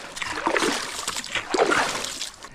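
Footsteps splashing through soft, wet snow near a winter camp lodge, two close splashy bursts of slush with a brief pause between them.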